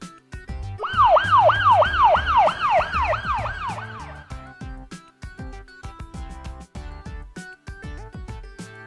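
An ambulance siren sounds in a fast, repeating up-and-down wail for about three seconds, loud and close, then gives way to light background music.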